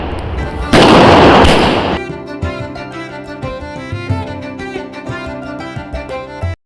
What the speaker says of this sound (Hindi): यहाँ पे पापा पहले स्काई शॉट जला रहे हैं